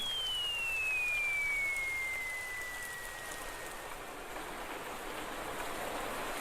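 Steady rain hisses down in a Tagalog-dubbed Doraemon cartoon, a constant wash of falling water with a thin descending whistle gliding through the first few seconds and no talking.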